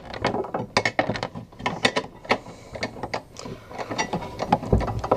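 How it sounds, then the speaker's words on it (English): Nuts being tightened on a console lock mounting plate, a rapid series of sharp ratcheting clicks in uneven bursts, close-up with no talk. "and then you tighten the nuts."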